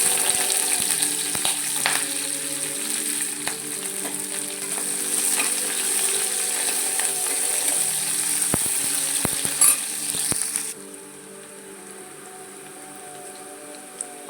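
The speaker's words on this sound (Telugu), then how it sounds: "పోపు వేగిందండి. ఇప్పుడు ఇందులోకి ఉల్లిపాయ వేసుకుందాం." Onion frying in tempering oil with cumin seeds, a bright steady sizzle with scattered clicks of a stirring utensil against the pan, dropping to a quieter hiss near the end, with no talking.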